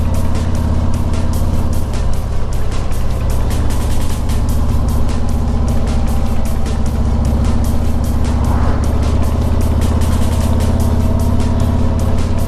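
Car engine pulling steadily in third gear at under 30 mph on the twisting mountain road of the Tail of the Dragon, a constant loud drone with wind and road rumble and no pauses.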